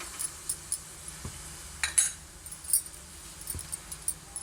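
A metal spoon clinks and scrapes against a pan while stirring turmeric into fried tempering for Rayalaseema pachipulusu, a handful of light, scattered taps and clinks over a quiet background.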